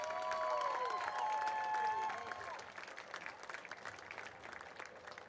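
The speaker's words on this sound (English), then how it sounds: "Let's have another round of applause for" A crowd applauds the Wildcats at a District 9 Single A boys soccer championship ceremony, a sustained burst of clapping that swells early then thins into scattered claps, with some voices and whistles mixed in.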